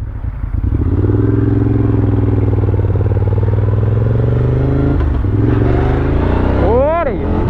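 A Moto Guzzi 1200 Griso SE motorcycle engine drones loudly and steadily up close, then climbs in pitch as it accelerates hard from about 4000 rpm toward the end.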